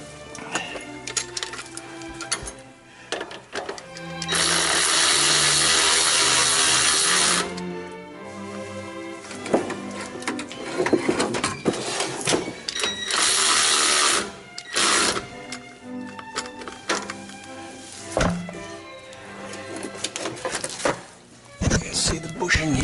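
Bolts are tightened on a steering stabilizer bar on a THOR Quantum 31SE motorhome, with bursts of a buzzing power tool, loud ratcheting and metallic clicks, and a voice talking in between.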